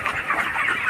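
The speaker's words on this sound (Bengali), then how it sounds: "অনেক বড় মুরগির ফার্ম দেখো, অনেক বড়, অনেক মুরগি আছে এখানে" Broiler chickens on a large poultry farm cluck in a busy, overlapping chorus, several birds fairly close and continuous over a brief moment.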